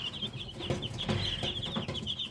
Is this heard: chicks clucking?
yes